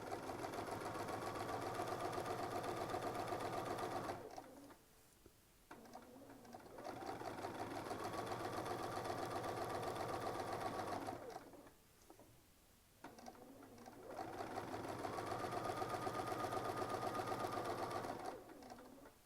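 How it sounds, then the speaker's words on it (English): A sewing machine stitches in free-motion quilting through a stiffening quilt sandwich, running in three long steady bursts of rapid whirring with short pauses between for repositioning, with no talk. "So we'll just quilt a little bit to get us back into that spot."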